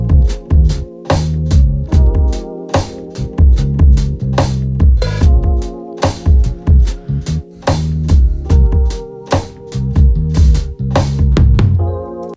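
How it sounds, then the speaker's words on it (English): Dark, simple bass pattern played on a sampled P bass from a Kontakt library, sitting in an R&B beat with steady drums; busy, continuous and up front, no talking. "so I grabbed a P bass from Contact, loaded it up, and played in like a simple but dark sounding pattern"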